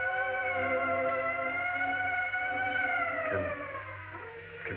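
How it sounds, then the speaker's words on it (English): An ambulance siren from a 1939 film wails continuously, its pitch gliding slowly and then dipping as it fades slightly, heard alone without talking. "the ambulance."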